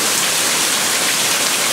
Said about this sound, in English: Oh, hailing. Inches deep